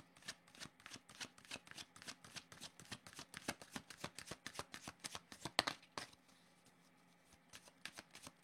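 A deck of cards riffled and shuffled by hand for a card reading, a close, rapid run of crisp flicks that stops abruptly, leaving quiet room tone.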